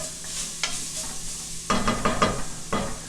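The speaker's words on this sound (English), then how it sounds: "as soon as garlic hits the pan, fills the house, and I just feel like I'm cooking." Garlic sizzling in a pan for braised chicken, a soft continuous hiss broken by a few close scraping stirs with a spatula, the strokes coming in quick bursts.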